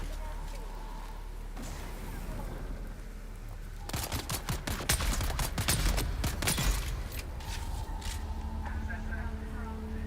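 Gunfire aimed at the player in Dune Awakening, a dense rapid volley of close shots in the middle stretch, with quieter ambient game noise and talking before and after.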